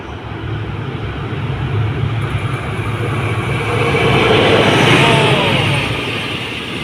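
A freight train hauled by a CSR locomotive rumbles past nearby in Thailand, a heavy continuous roar and clatter of wheels that swells louder toward the middle and stays strong.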